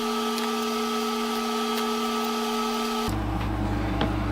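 A wood lathe turning a resin and wood project hums steadily with a high whine, then drops into a deeper, louder rumble as it spins faster for friction polish burnishing.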